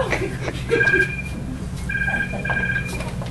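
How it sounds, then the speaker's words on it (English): A telephone ringtone sounds in two short bursts of bright electronic tone, moderately loud over a background hum. "I could tell by the ringtone."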